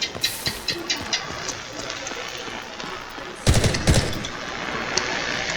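Gunfire in a first-person shooter video game, rapid bursts of machine-gun shots in quick rhythm followed by a louder volley, with a constant background rumble of battle.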